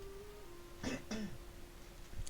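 Two short, soft coughs in quick succession, close by over a faint steady hum, followed by quiet.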